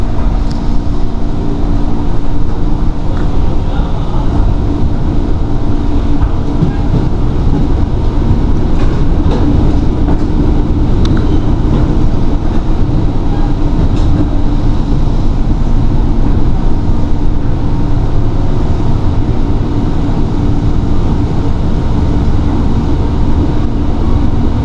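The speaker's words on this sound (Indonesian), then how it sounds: "Sekarang kita duduk dulu di sini dan meninggalkan stasiun Manggarai" KRL commuter train pulling out of Manggarai station, a steady loud rumble and rolling clatter of the carriages heard from inside, continuous throughout with no talk.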